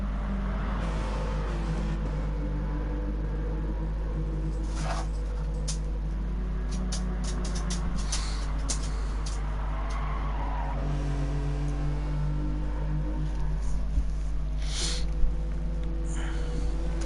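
A race car lapping in a racing sim drones with a steady engine note that shifts pitch through gear changes, while tires squeal and skid in short bursts over the constant hum.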